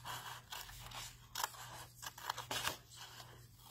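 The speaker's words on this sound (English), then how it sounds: "I love our scissors because with the fine points that they have on them, you can get right in there, right up to the edge." Sharp fine-point scissors cut paper while making an explosion box craft, producing a close, quiet series of crisp snips and scrapes in uneven bursts, with no talking.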